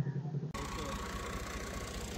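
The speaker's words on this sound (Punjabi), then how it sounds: "ਜਾ ਕੇ ਮਾਰਦੇ ਹਾਂ ਟਰੈਕਟਰ ਨੂੰ ਸਲਫ," A farm tractor engine cranks and catches, then settles into a loud, steady idle rumble close by.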